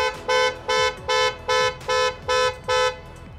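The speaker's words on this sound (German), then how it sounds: "Und zwar können wir unser Fahrzeug einmal aufblinken und hupen lassen." Porsche horn sounded remotely through the My Porsche app, with seven short evenly spaced honks in a steady rhythm, loud and clear with no talking.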